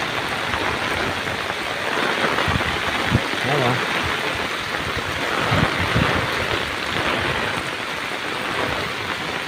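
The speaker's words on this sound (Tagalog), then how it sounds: "walang hintong ulan dito ngayon malakas yan guys" Heavy nonstop rain during Storm Carina in Tarlac City beside a flooded river, a dense continuous roar of downpour and rushing water, loud and unbroken, with someone speaking briefly over it.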